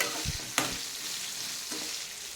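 Ridge gourd pieces sizzle in a hot pan as they are stirred, with a couple of close spatula scrapes over a continuous frying hiss, brief and without talk.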